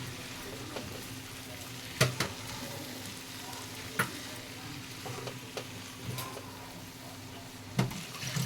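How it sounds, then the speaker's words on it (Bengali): Soybean chaap is stirred gently in a frying pan, giving a continuous close sizzle with soft scraping and several sharp clinks of the spatula against the pan, spaced irregularly, with no talk. "এই সয়াবিন চাপটা দিয়ে দিলাম। ভালো করে নাড়িয়ে নেব হালকা হাতে।"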